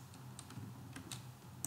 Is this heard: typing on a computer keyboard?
yes